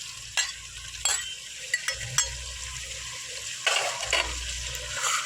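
Curry leaves, sliced onion and homemade tomato sautéing in a large pot for garlic pepper kuzhambu, a steady sizzle and fry with several sharp scraping stirs of the spoon against the metal, close and continuous without voices.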